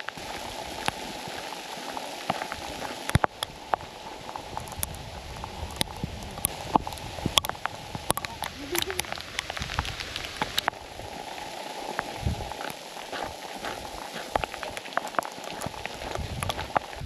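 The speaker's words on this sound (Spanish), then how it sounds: "Serio, que es una lluvia de nieve lo que está cayendo en estos momentos." Hail falling in a cold high mountain setting near the Rainbow Mountain, a steady dense patter of small icy pellets with scattered sharper impacts, continuous and close throughout.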